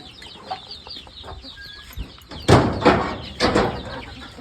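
A brooding hen sits among her newly hatched chicks, giving soft, scattered clucks, then a few louder bursts of clucking and rustling toward the end, close by with no talk.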